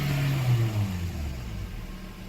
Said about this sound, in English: But I got a stable idle.